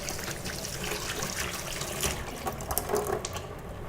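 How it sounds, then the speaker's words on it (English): Kitchen tap running as a hand is quickly rinsed under it, a soft steady splashing and hiss of water at low level, with small irregular spatters toward the end. "let me just give my hand a quick rinse here"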